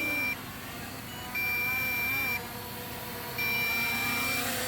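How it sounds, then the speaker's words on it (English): Long, high electronic low-voltage warning beeps from an MJX Bugs 6 brushless quadcopter drone repeat in an on-off pattern over a steady motor whir, loud and close. "the quad actually beeps too"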